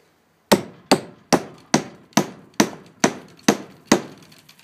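A hammer strikes repeatedly during an AEB-L steel knife test: eight loud, sharp, evenly spaced blows with short ringing decays, close and alone.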